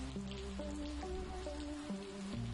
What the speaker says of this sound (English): it's raining out, we better wait till tomorrow